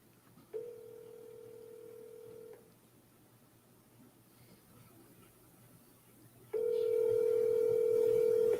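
Telephone call tones with no talk: a steady dial tone plays for about two seconds, then quiet line hiss, then a louder, sustained tone returns near the end.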